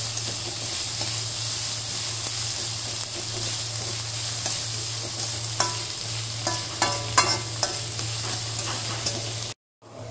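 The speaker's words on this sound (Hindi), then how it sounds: "अब हम इसको मिलाएंगे, इसको तब तक मिलाएंगे जब तक ये लाइट ब्राउन ना हो जाए।" Chopped onions sizzle and hiss steadily in a hot pan for a Manchurian dish, with a series of soft scraping stirs toward the end before the sound cuts off briefly.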